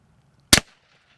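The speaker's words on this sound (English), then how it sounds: "This is a Glock 21 45 caliber handgun wearing an Obsidian for the suppressor." A single sharp, loud report from a Glock 21 .45 caliber handgun fitted with an Obsidian suppressor, one brief crack that dies away quickly against a quiet background.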